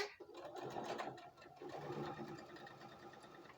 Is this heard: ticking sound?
no